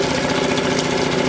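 Suzuki 2.5 HP outboard motor runs steadily during its break-in after being started, a loud, close, buzzy putter with a fast, even firing rhythm.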